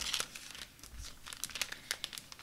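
A folded card slides partway into a 6x6 cellophane bag, giving close, steady crinkling and rustling with a few sharper crackles, no talking.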